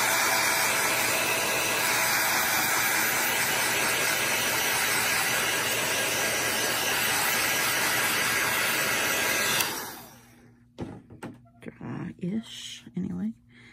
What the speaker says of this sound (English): I've got the heat in, so I can just dry it.